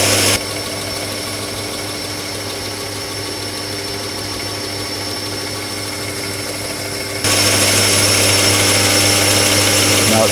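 A Carbatec BDS 1530C belt and disc sander runs with a steady mechanical hum and whir, close and continuous, growing noticeably louder in the last few seconds.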